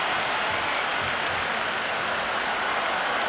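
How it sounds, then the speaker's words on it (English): Crowd in the stands at an India vs Pakistan T20 cricket match, a steady loud roar of cheering and applause washing through without a break. "There's a buzz, a real buzz coming from the stands."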